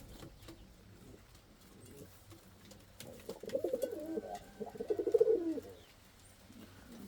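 Indian fantail pigeons coo in low, throaty rolling bursts, a few close calls rising in the middle and end over a quiet room background, with no talking.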